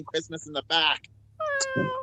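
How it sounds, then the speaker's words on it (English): A cat meows loudly in a drawn-out, wavering cry that follows and overlaps with people chatting nearby during a live podcast. "Oh, that's a cat."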